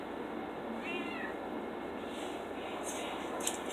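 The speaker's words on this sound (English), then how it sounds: "oh my god, I hear you, my cat" A single cat meows once, a short rising-falling call heard fairly close over a steady background hiss in an indoor room.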